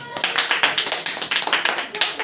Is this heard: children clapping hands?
yes